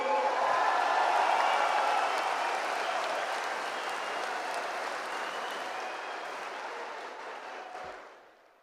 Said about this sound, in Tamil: 13 மாவட்ட செயலாளர்களுக்கும் அவர்தம் தொண்டர் படைக்கும் ஒரு அரங்க நிறைந்த கைத்தட்டல்களை நாம் தந்தாக வேண்டும்